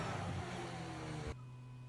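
A race car in a racing game drives down the back straight, its engine droning steadily at high revs before the sound abruptly drops to a quieter hum.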